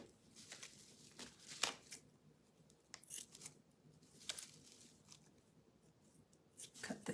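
Scissors snipping ribbon while tying a gift bow, several crisp close cuts spaced apart with soft rustling of ribbon between, no talk.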